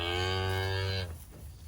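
A single long moo from farm cattle, a loud, rich bellow held for about a second before it cuts off, leaving faint background noise.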